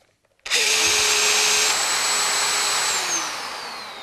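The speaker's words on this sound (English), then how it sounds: "The unit has its own built-in motor to draw in the dust, so it doesn't affect the drilling performance in any way." A Makita BHR243 18V LXT brushless rotary hammer with built-in dust extractor starts abruptly and runs as a loud, steady high whine and roar, then the pitch slides down near the end.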